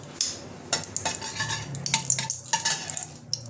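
Whole spices tempered in hot mustard oil with half a spoon of ghee for a Bengali chicken keema with chickpeas: a crackling sizzle punctuated by sharp spoon clinks and scrapes against the pan, close and fairly loud.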